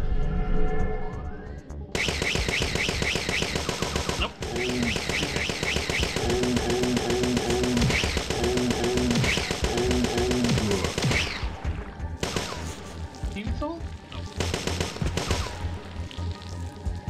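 Rapid bursts of automatic gunfire and single shots in the video game Parasite Eve 2, loud and nearly continuous with brief pauses and echoing reports.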